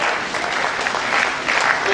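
An audience applauds at a 2017 gender studies annual seminar, a dense, steady wash of many hands clapping close and fairly loud for the whole stretch.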